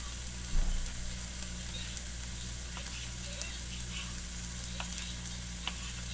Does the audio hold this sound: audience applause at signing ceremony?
no